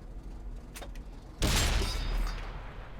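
A tank cannon firing in World of Tanks on console, one loud booming blast midway that rolls into a rumbling tail, preceded by quieter engine and mechanical noise.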